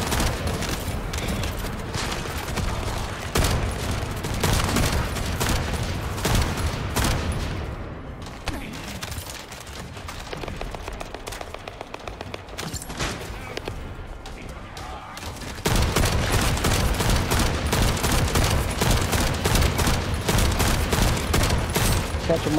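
Dense, rapid gunfire from the video game The First Descendant, with loud sustained bursts that briefly thin out mid-clip before surging back at full intensity, while a voice talks over it.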